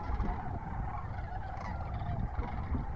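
Sandhill cranes in Nebraska calling continuously, a dense chorus of rattling, bugling calls from a large flock at moderate distance with a low wind-like background.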